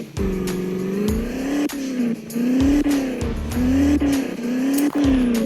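Engine of a car in the Indian Vehicle Simulator video game, stuck and driven hard, revs loudly and continuously with a wavering pitch that rises and falls, broken by sharp clicks and brief dips, without any speech.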